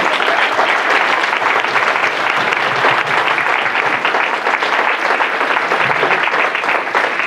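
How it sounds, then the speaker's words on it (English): A conference audience at a poverty and child welfare forum gives the panelists a sustained round of applause, a thick, even wash of clapping with no talk over it. "let's give our panelists, our presenters,"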